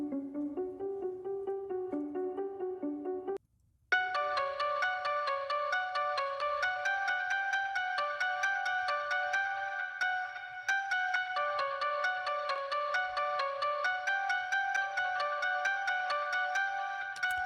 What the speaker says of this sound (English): Adding some dotted eighth note delay so we can hear without that